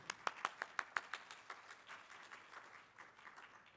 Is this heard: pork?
no